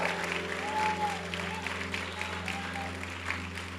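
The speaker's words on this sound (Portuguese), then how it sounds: "Uma salva de palmas para ele" Church audience applauding a pastor as he steps up to give his testimony, broad steady clapping filling the room with a low hum beneath and a voice talking over it throughout.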